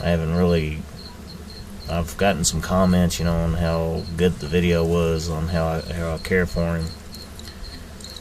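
Crickets kept as feeders in a bin chirp in steady, repeated high pulses in the background while someone talks over them at close range.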